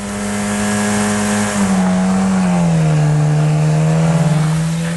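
A loud motorcycle engine revving during a burnout holds a high, steady drone, its pitch dipping slightly and then levelling off, heard up close with no talking.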